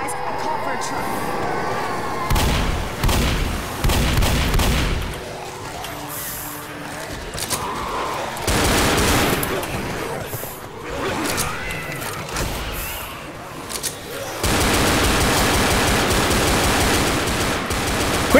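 Bursts of gunfire in Left 4 Dead as players shoot at zombies, loud rapid volleys broken by brief pauses, with a long sustained stretch of firing near the end and voices talking over the action.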